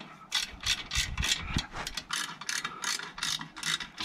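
A ratchet wrench clicks in rapid repeated bursts while backing bolts out of a cracked aftermarket eBay bash plate on a DR650 motorcycle, loud and close with short pauses between strokes.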